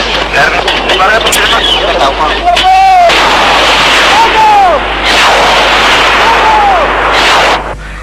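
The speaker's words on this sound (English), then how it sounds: "Nigerian artillery and machine gun fire decimate the attacking Biafran commandos" Artillery and machine gun fire from a war documentary about the Nigerian Civil War: rapid loud bursts and whistling incoming shells, with a narrator speaking over the din throughout.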